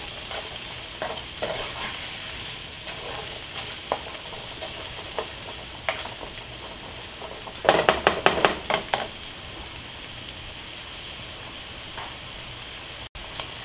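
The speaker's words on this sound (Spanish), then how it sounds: "Voy a sofreír un poco para que deje su rico sabor en el aceite." Chopped onion sizzles steadily as it fries in oil in a pot for picadillo ranchero with chorizo, a close, continuous crackle with a burst of stirring clatter partway through.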